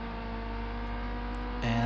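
A race car in Project Cars 2, running a flying lap on cold tires, gives a steady, humming engine drone. The drone holds an even pitch, then shifts abruptly to a fuller, louder tone near the end.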